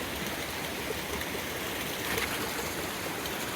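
Clear stream water rushes downhill through the jungle of Jim Corbett, a close, steady, full-bodied babble and splash with no pauses.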